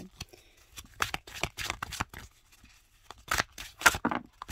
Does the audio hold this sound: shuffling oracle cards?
yes